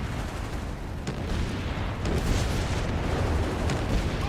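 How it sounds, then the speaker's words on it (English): Artillery fire in the Company of Heroes 3 video game booms in dense, rumbling explosions, with several heavy thuds and a continuous roar of battle noise throughout. "Damn it! Artillery fire!"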